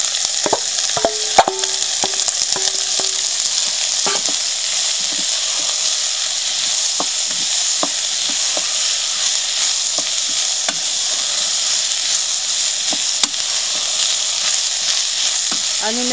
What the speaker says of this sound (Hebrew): אני מטגנת אותם תוך כדי ערבוב מדי פעם עד אשר הבצלים קצת זהובים ורקים